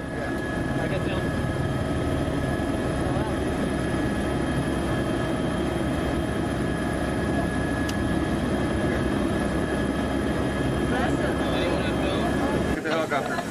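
A helicopter in flight gives a steady, loud engine and rotor drone with humming tones throughout, as if heard from inside the cabin, and voices seem to mix in under the noise.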